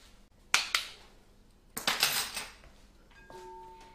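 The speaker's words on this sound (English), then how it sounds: "Scrape it out with this spatula" A spatula scrapes corn syrup out of a bottle, making a few sharp clinks and a short rasping scrape at close range, followed by a faint ringing tone.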